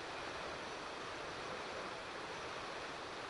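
A waterfall over 100 feet high roaring from a distance, a steady broadband rush of falling water with no other sounds.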